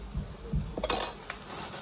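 A plastic spoon is handled while a takeaway ketoprak is unpacked, giving a few soft close clinks and rustles, quiet and brief.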